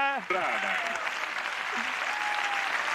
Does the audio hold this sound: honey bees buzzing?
no